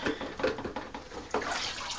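A beehive frame is plunged into and lifted from melted beeswax, giving soft sloshing and dripping splashes in a few uneven bursts, quiet and close.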